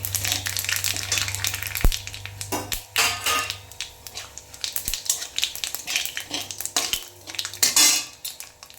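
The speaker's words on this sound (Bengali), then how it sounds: "সামান্য পরিমাণ দুটো লঙ্কা, দুটো তেজপাতা আর এরকমটা জিরে ফোড়ন" Chillies, bay leaves and cumin are tempered in hot oil: metal utensils clink and scrape against a pan, with short bursts of sizzling between them and no talking.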